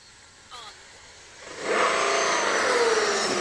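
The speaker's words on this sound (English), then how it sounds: "You can hear the motor" A model aircraft motor with bad bearings on a Grob 120 spins up, a short whine followed by a loud, rough, steady buzzing run with slight wavering, close by.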